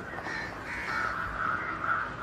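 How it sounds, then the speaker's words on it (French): Crows cawing near a carcass in the Siberian wild, a dense overlapping chorus of harsh calls rising and falling continuously, fairly close and loud with no pause. "Si les croassements sont aussi nombreux, ce n'est pas un hasard."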